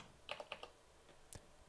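Brief bursts of computer keyboard typing, a few quick close keystrokes clustered near the start and a couple more toward the end, quiet and alone.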